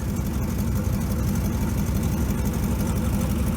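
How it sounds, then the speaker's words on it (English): A heavy old 1957 GMC 370 fire truck engine idles steadily on its own, a deep, even rumble with a constant low throb and no revving. "Idling by itself there."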